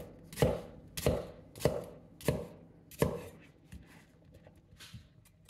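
An onion with the root left on chopped with a knife on a cutting board, about five crisp, evenly spaced thuds followed by several fainter cuts, close and alone.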